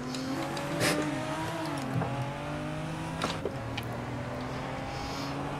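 A Toyota Supra engine in a racing game revs and shifts, pitch rising and dropping with a few sharp bursts and brief tire noise, loud and close throughout with no voices.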